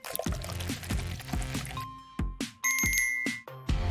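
Liquid is poured into a glass test tube, giving a series of bright clinking, bubbling glugs in an uneven rhythm with ringing glassy tones toward the end, close and clear.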